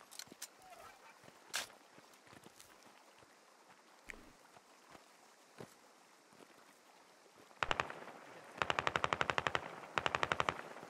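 Machine gun fire in the tactical military shooter Squad: scattered single distant shots early on, then several sharp rapid automatic bursts close by near the end, with no talking.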